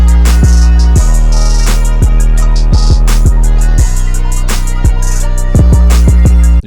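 Dark hip-hop sample beat, with a dense, loud wall of melodic sample layers and heavy low-end hits punching in at an irregular rhythm. It plays continuously without talk.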